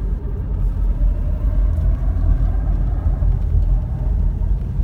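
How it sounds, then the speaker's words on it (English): Car tires grinding over icy road in snowy Big Bear Lake, California, heard from inside the vehicle as a steady low rumble and rough friction noise under the engine while it speeds up. "When I speed up, you can hear the tires rubbing against the ice."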